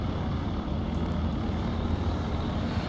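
An aircraft engine in the Flight Sim World game drones loud and steady through the whole stretch, with no voices over it.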